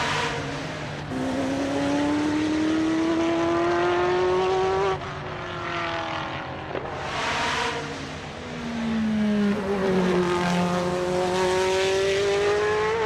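High-pitched race car exhaust heard from behind in a sim racing game, a loud sustained whine climbing through the gears with brief shift breaks, steady and close throughout.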